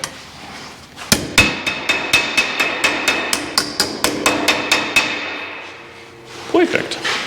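Hammer striking a metal patch panel on a workbench, a rapid series of about twenty sharp, close, ringing blows in a steady rhythm, then a pause and a few more hits.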